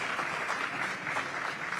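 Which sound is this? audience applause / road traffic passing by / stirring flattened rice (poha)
audience applause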